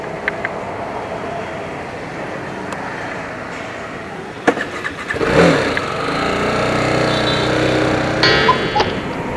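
A scooter engine starts up and rides off, a low rumble swelling and then holding steady over several seconds, with a sharp click and some background traffic noise around it.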